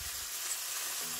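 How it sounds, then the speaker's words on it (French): Onion frying in a pan for a chicken tajine filling, heard as a continuous close, bright sizzle with no talking. "Je vais faire revenir l'oignon jusqu'à ce qu'il devienne translucide."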